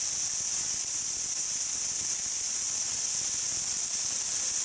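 American bacon strips sizzling steadily in a hot pan for a cheeseburger, a constant bright hiss with faint crackle throughout and no voices.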